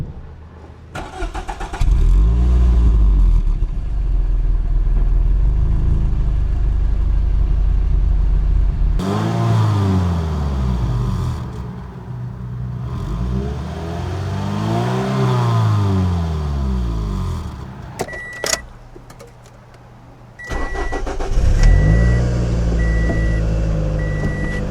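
Car engine fitted with a newly installed aftermarket muffler, starting and revving repeatedly at close range, rising and falling sweeps in a driveway; a reversing beep sounds near the end.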